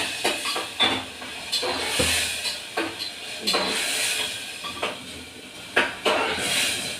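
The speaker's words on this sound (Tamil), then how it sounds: "நான் வெங்காயம் போடாததுனால நான் முதல்ல டொமேட்டோவை போடுறேன்." Tomatoes hit a hot pan for Punjabi chole masala, giving a bright sizzling hiss broken by repeated sharp spatters and scraping clinks of a utensil, close and continuous.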